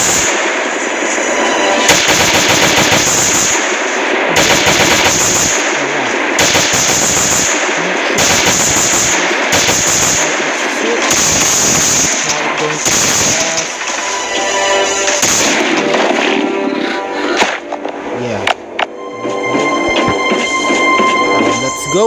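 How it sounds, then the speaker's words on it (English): Video game gunfire from an M16 and a shotgun in Last Day on Earth: Survival, fired at a frenzy giant zombie. It comes as loud, dense bursts of rapid automatic fire broken by short pauses, with no voices. "Now I'm going to kill this frenzy giant by using my M16 and my shotgun"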